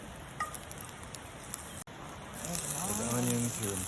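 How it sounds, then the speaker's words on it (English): A faint, steady hiss of canola oil sizzling in a camp pan at a Kings Canyon campsite, with a voice talking over it in the second half. "Stir it around, it starts to sizzle up."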